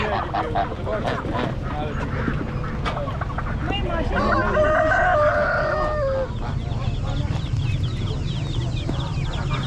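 Geese and chickens at a summer Thursday bazaar in Kelachay, Gilan, northern Iran, honk, cluck and crow loudly and close by over a busy market din, with people talking nearby.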